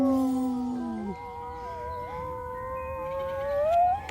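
A Halloween werewolf decoration lets out a long, wavering electronic howl that slides down, then rises again, heard close by and steady against quiet outdoor background noise.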